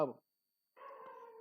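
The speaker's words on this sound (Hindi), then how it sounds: "भाई कुत्ता भौंक रहा है।" A dog barks once in the distance, a single short, faint call standing alone after a brief burst of nearby voice.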